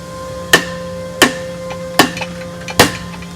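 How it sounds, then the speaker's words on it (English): Four sharp metallic hammer strikes, evenly spaced and ringing briefly, with a couple of softer taps between them, close by, as an axle is hammered into a tight, powder-coated frame. "we may actually need to get a hammer"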